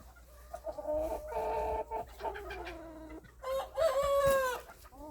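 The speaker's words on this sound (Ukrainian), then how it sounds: "Курочка кохінхінка ось молоденька." Young Cochin chickens clucking and squawking close by in a backyard garden, a busy run of repeated calls with brief pauses, rising into louder, higher squawks near the end.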